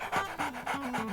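Pet dog Max pants rapidly and close by in a kitchen while pancakes cook, with quick rhythmic breaths repeating steadily and no talking.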